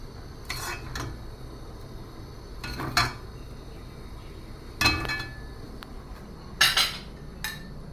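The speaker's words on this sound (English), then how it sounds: "I'm gonna scoop some of these. Into my bowl." Spoon scooping red rice congee into a bowl, giving several brief clinks and scrapes of utensil against dishware spaced apart over a steady low background hum.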